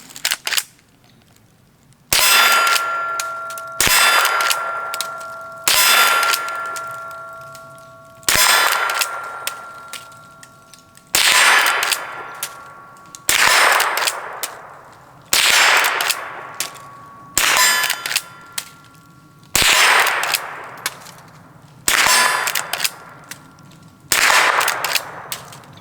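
A Henry .22 rifle fires .22 Long Rifle rounds: about a dozen sharp, loud, close cracks at a steady pace roughly two seconds apart, each with a short metallic ring, and no talking between them.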